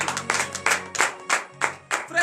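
Congregation at a morning prayer service in Benin clapping in praise, with a run of loud rhythmic claps and cheering voices, about six sharp bursts in just over two seconds.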